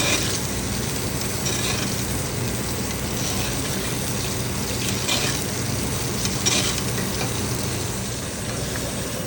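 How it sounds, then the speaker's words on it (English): Steak sizzles hard in a hot pan while hot oil is spooned over it, a dense, steady crackling hiss with scattered pops and spatter that keeps going without a break and with no talking. "just continue to baste it."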